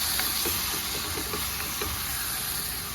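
Vegetables sauté in a hot pan for chicken chukka, giving a steady, dense sizzle and hiss with faint stirring clicks, close and continuous with no talking.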